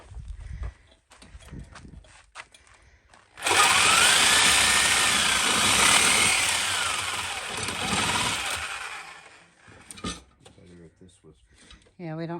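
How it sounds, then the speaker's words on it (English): Sawzall reciprocating saw cutting through a metal barrel being made into a BBQ, a loud harsh rasping roar for several seconds with speech before and after. "So we're doing it with a Sawzall."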